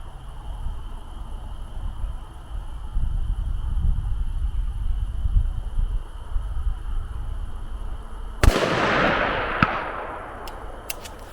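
A BCA-10 rifle with a TriggerTech drop-in trigger is fired off a tripod at a distant 10-inch steel target outdoors, giving one sharp crack with a rolling echo and a couple of faint ticks after it.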